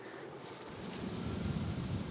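Steady wind rushing past the microphone, a broad low roar that swells slightly louder partway through and stays constant to the end.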